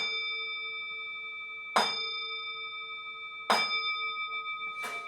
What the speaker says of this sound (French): on va faire sonner le bol tibétain.